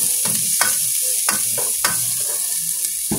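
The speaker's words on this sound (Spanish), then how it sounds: "Solo dejamos que se sofríe un poco." Vegetables for rice sautéing in a pan, with repeated scraping stirs and clatter over a constant hiss of frying, close and fairly loud, no voices.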